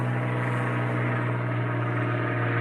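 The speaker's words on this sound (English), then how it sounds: "Got a plane flying over me." A propeller airplane passes overhead outdoors, a loud, constant low droning hum that fills the whole stretch without fading, with no speech over it.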